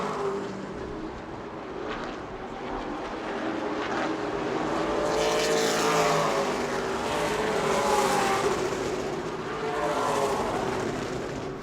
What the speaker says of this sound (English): Got a big train of cars coming off turn number 4